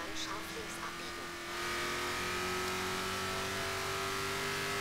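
Car engine in Forza Horizon 3 on a Hot Wheels track, a steady droning hum with a rising pitch as the car accelerates, continuous and fairly loud, with brief voice fragments early on.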